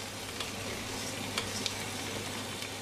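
Food sizzles and crackles steadily in a hot pot while being sautéed for ezogelin soup, with a few light scraping stirs near the middle.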